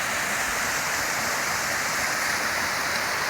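A waterfall on a mountain hike over White Top roars steadily and close, a constant broad wash of falling water with no voices.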